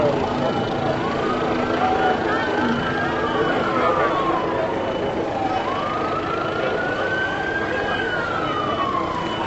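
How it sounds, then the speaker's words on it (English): An ambulance siren wails as it approaches, rising and falling in long sweeps over steady traffic noise, sounding moderately near and continuous. "So right now another ambulance is approaching"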